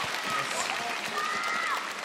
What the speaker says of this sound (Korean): 정우한테 박수 한번 쳐주세요.